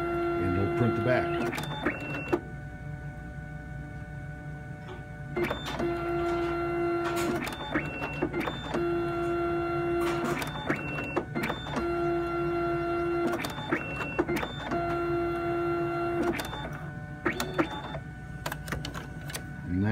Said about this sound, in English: printing both sides of a card with a single-sided printer